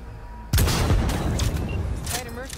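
Gunfire in Cyberpunk 2077: a sudden loud burst opens a dense, continuous volley of shots, with reverberant booms and a few higher ringing tones near the end.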